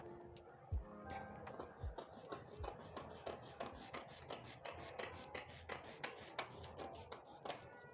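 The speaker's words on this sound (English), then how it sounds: "So the first thing, I'm going to cut from the waist." Scissors cut a paper dress block pattern from the waist, giving faint, close, rapid snips and rustling paper shuffles in an uneven rhythm, with no talking.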